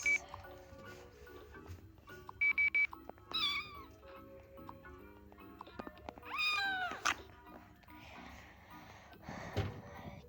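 Cat meowing indoors, several close, drawn-out meows of varying pitch spread through the clip, with quiet background shuffling and faint voices.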